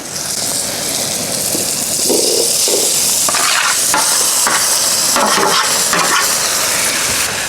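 Pork hitting a hot pan for jambalaya: loud, steady, continuous sizzling and frying hiss with occasional stirring scrapes layered on top, close up and without any talk.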